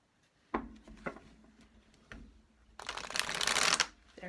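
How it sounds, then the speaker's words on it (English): Tarot cards are shuffled by hand in a few separate riffle-like clicks, then a longer, louder run of rapid card flutter close to the microphone. "I do know how to shuffle"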